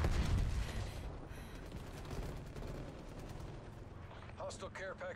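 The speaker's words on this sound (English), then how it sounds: "I was shooting the cement" Dense bursts of rapid gunfire from Call of Duty: Black Ops Cold War, the loud shots rattling in quick succession, the volley strongest at first and then easing, while a voice speaks near the end.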